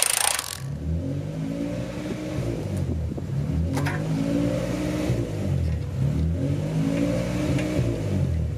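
A Honda CRX Si engine runs steadily after starting, a loud, close, even mid-pitched hum with slight rattling and small surges in revs throughout.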